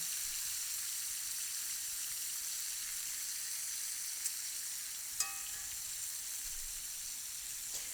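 Sliced food frying in a hot cast iron pan outdoors, a steady, bright sizzle throughout with a couple of sharp clicks from flipping, close and continuous.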